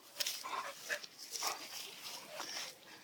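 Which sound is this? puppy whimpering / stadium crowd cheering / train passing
puppy whimpering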